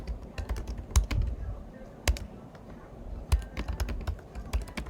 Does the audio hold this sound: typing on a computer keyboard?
yes